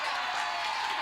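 A studio audience on a morning TV news show cheering and clapping, a dense, steady crowd roar filling the whole brief moment.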